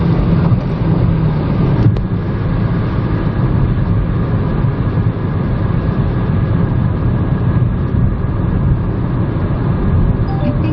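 A Kia Stonic car travels just over 140 km/h on a slight downhill stretch; loud, steady road and wind roar fills the cabin throughout, with no talking.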